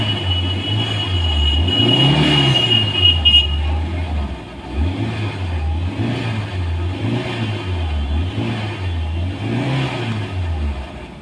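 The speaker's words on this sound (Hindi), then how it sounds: "गाड़ी, स्टार्ट हो गई है।" A Hyundai Santro CNG car engine runs steadily and revs up and down in repeated surges, close and loud, with no talking.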